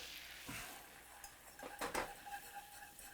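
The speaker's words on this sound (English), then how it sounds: "I'm gonna go in with our flour. We're gonna whisk that in." A whisk works flour into melted butter in a pan, making faint scraping and light clinks that build to a brief louder stir near the end. No talking.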